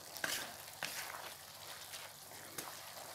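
Ridge gourd cooking in a pan with the water released by salt, stirred over a medium flame, giving a soft steady sizzle with a few sharp scrapes of the spatula against the pan.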